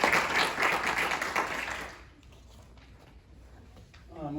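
Audience at a community wildfire preparedness workshop applauding the speakers, a moderate burst of clapping that fades out after two seconds, followed by quiet room noise and a voice starting at the end.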